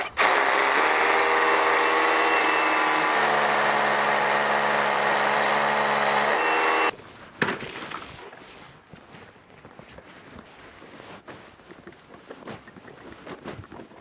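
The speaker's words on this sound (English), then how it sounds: "I'm just going through with the next size drill bit," Power drill with a larger drill bit boring through a wall while fitting a Simpson & Partners Home 7kW Plus EV charger: a loud, steady whine for about seven seconds, then stopping, followed by quiet handling clatter.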